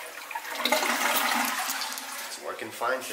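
A hotel toilet in a junior suite flushes with a close, rushing gush of water that fades into a gurgle as someone speaks briefly over the end.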